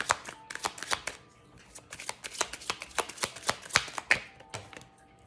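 Tarot cards being shuffled in steady rapid bursts, crisp papery riffles and slaps following one another close to the ear with short gaps between, no voices.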